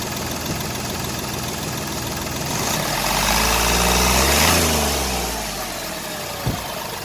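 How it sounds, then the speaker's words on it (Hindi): A used car's engine idles, then is revved up in a smooth swell that peaks and falls back to idle, loud and close, with a brief knock near the end and no talking. "मैं कार को थोड़ा रेव करता हूँ"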